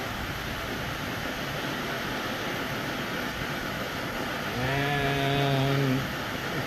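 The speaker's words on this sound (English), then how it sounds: "we're going to light one of the torches and we're going to turn it up to where we see the blue flame" A gas torch burns in a gold-melting furnace chamber with a steady broadband roar, then swells louder and spits with a rough, tonal flutter for a second or two near the end.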